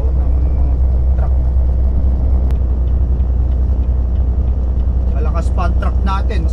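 An old truck's engine drones with a heavy, constant low rumble as it climbs uphill, loud and close, with a person talking over it near the end.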